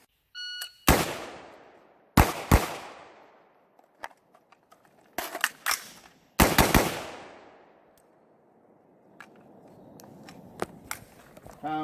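Rifle and pistol gunshots from a 1-2-3 shooting drill with a carbine and a pistol: loud close reports in uneven bursts, some in quick pairs, each ringing out, with faint footsteps and distant shots between them.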